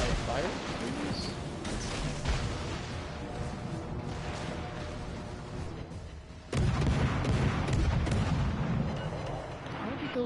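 Heavy naval guns boom in a Bismarck-era sea battle video game set in the Denmark Strait in 1941, a dense rolling bombardment with a sharp loud salvo near the middle, over a constant battle din.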